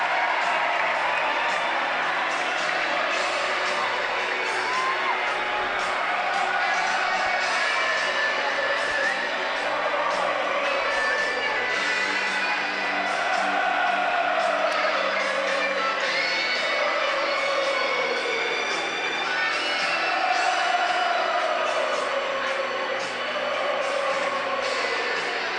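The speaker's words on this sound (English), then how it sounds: "Just listen to that crowd." A large rugby crowd at a BUCS Super Rugby match between Exeter and Durham roars and cheers as the Exeter University team runs out, a sustained dense wall of shouts and whoops with waves of louder cheering.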